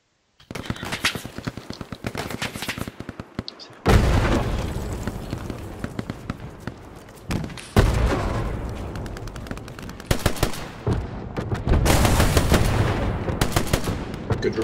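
Rapid gunfire crackles in dense bursts throughout a Hell Let Loose battle, with heavy rocket explosions booming at intervals, each followed by a sustained roar of shots and rumbling blasts, loud and close.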